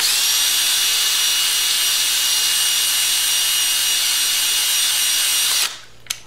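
A power drill whines steadily at high speed for several seconds, boring a bigger hole through a saddlebag mount for a Yamaha 250 motorcycle, then spins down and stops with a small clatter.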